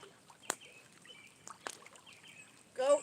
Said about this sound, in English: I hope you guys can hear the bird because that sounds awesome.